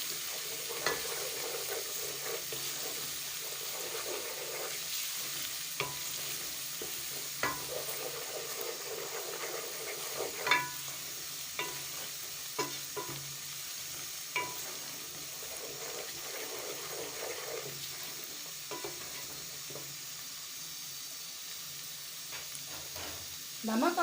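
Spices and ginger garlic paste being stirred into chicken nihari in a pan, a faint steady sizzle with soft scraping and occasional light clinks of the spoon throughout, no voice.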